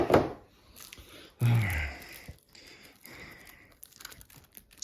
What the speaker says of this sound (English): Now I want you to open the cards